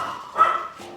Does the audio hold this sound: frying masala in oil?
no